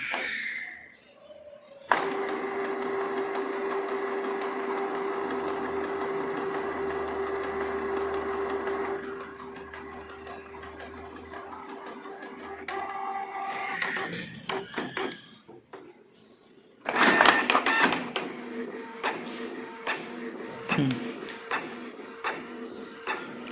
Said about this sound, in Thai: รอมันล้างหัวพิมพ์แป๊บ